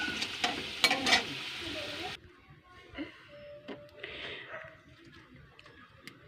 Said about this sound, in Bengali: আলুগুলো ভালোই ভাজা হয়ে গেছে, পুরো লাল লাল করে।